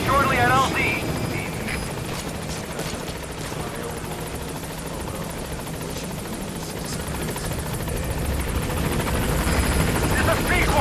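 Support helicopter in Metal Gear Solid 5 arriving at a landing zone, a steady loud rotor drone throughout with radio-style voices talking over it.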